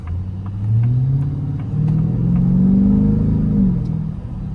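A Ford Raptor R truck running on E85 accelerates hard, its deep engine rumble rising in pitch through two gear changes, loud and nearby, before easing off at the end.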